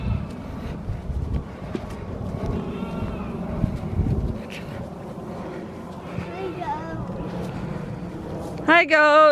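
Goats on a homestead bleat over low, rumbling wind and farm background noise, ending with a loud, close, wavering bleat. A person speaks briefly.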